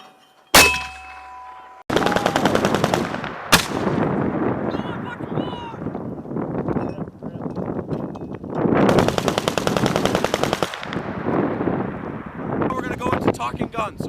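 Marine machine guns fire during a platoon attack exercise in a heavy blizzard, with long sustained bursts of loud rapid shots, a sharp crack near the start and gusts of wind noise between volleys.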